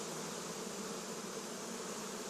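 A mass of bees swarming in an opened beehive, a dense, steady buzzing drone close by with no pauses.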